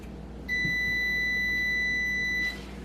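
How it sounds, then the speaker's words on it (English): A kitchen timer beeps in one steady, high electronic tone for about two seconds over quiet background hum, no talking. "And there's my timer."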